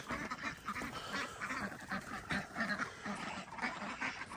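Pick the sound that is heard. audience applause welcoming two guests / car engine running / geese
geese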